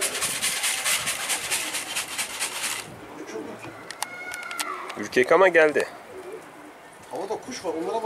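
Pigeons coo close by in soft, rolling calls, with a brief bright burst of high-pitched buzzing noise at the start and a person speaking briefly.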